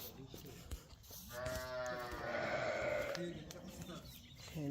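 Sheep at a shearing bleat in a long, wavering call from nearby, while people talk in the background.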